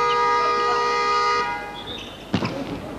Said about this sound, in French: c'est une espèce de corne de brume qui vient de retentir.